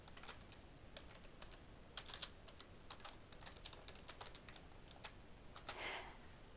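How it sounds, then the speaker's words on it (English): Keys on a computer keyboard clatter in quick irregular bursts of typing, soft and close with short pauses between runs, and no talk over them. "then we can type our text"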